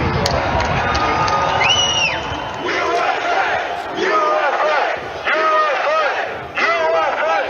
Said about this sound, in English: There's a crowd surge heading east.